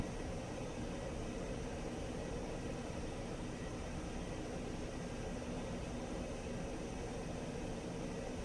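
Steady, dense engine roar of a Sukhoi Su-27 jet taxiing in the DCS flight simulator, a constant broadband hum and hiss holding at even loudness throughout with no talk.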